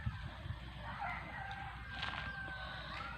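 A rooster crows faintly in the distance amid soft clucking of chickens on a farm, with quiet outdoor background noise.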